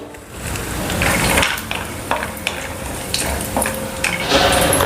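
Cashews, almonds and pistachios roasting in two spoons of ghee, a steady loud sizzle with scraping stirs and light clinks of the spoon against the pan throughout.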